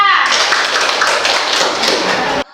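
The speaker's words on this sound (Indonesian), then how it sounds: "berikan aplaus untuk kelompok 3" A classroom group claps for a presenting team during a teacher-training session, a dense burst of applause that holds steady for over two seconds and then cuts off abruptly.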